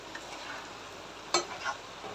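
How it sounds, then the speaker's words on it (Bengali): Fish and potatoes are turned over in a cooking pan in their gravy: a low, steady simmering hiss, a sharp utensil clank against the pan and a few softer scrapes, with no talking. "এখন যে এই ঝোলটা আছে ওটার সাথে মাছটা একটু নেড়ে চেড়ে দিব"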